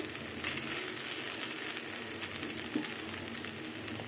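Ridge gourd fries in a pan, giving a steady, even sizzle with faint crackle at a low level and no talking.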